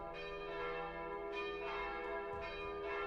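Church bells toll in the distance as a tabletop game sound effect, a steady resonant ringing with sustained overtones and a few fresh strikes, alone with no talk.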